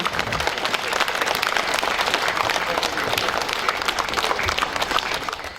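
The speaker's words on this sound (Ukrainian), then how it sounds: "Давайте підтримуємо їх оплесками." Steady, dense applause from a crowd at an outdoor rally in Romny, Sumy region, held in support of a prisoner of war; the clapping fills the whole stretch at an even, sustained level.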